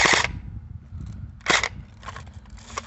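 An airsoft Draco AK-style gun fires a few sharp, loud shots close by, one crack at the start and another about a second and a half later, followed by fainter rattles.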